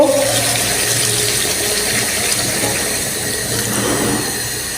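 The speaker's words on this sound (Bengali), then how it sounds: "এখন আমি জল দিয়ে দেবো জল দিয়ে দিতেছি অল্প জল দিব" A little water poured into a pan of chicken curry on the stove, a steady hissing, splashing pour heard up close throughout without talk.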